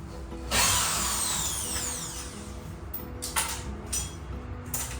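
An electric drill whines loudly at close range while a sliding mesh screen is fitted in a newly built area of a home, one long run tapering off, followed by short bursts of drilling.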